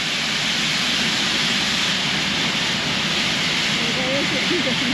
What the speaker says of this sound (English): I think he's got quite a lot of steam.